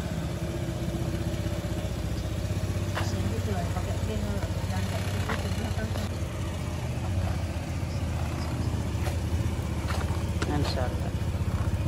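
A motorbike engine runs steadily while riding on an evening road in Indonesia, a constant mid-pitched drone with clatter and wind rush, heard under occasional talk.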